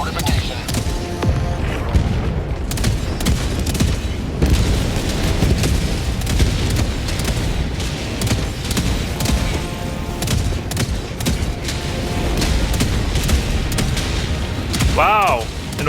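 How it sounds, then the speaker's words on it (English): Orbital bombardment in Helldivers 2 produces a steady barrage of heavy booms and explosions mixed with gunfire, loud and continuous throughout, while a voice talks over the battle. "an orbital bombardment took out my rocket sentry"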